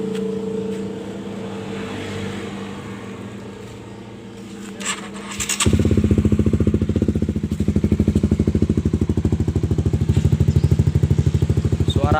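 A Honda CBR150R motorcycle fitted with a PDK aftermarket exhaust idles with a low hum, then the engine settles into a loud, rapid, throbbing exhaust pulse that holds steadily for several seconds.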